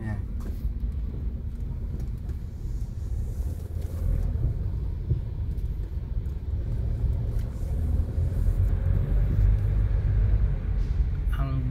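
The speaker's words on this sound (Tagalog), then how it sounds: "Ngayon super traffic talaga mga kababayan ko, mga marikoy, mga parikoy. Ayan, matindi ang traffic dito ngayon sa EDSA Aguinaldo." Heavy, congested road traffic on EDSA near Aguinaldo in Metro Manila, a continuous low engine rumble with wind buffeting, swelling slightly louder toward the end while someone talks over it.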